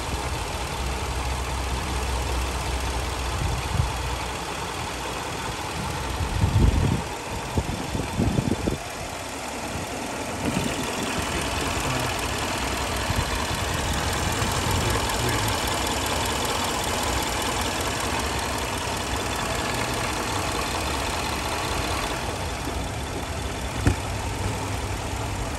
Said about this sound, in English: possible to hear the engine.